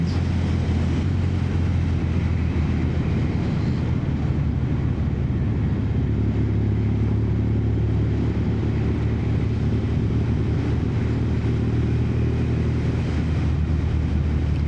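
A motorcycle ridden through a corner with the clutch pulled in and a light touch of rear brake, heard as a steady, loud rush of engine and wind noise throughout with no clear change in tone.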